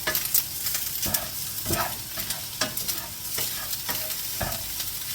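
Rice being stirred in a hot pan, with a steady sizzle under irregular scraping and clattering strokes of the utensil, close and clear with no talking.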